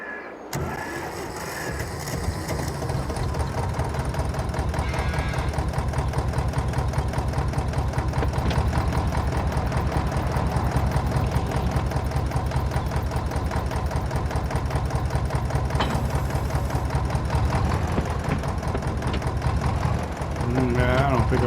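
A tractor engine in the Farming Simulator 22 video game runs steadily with a constant droning rumble throughout, with a person talking over it at times.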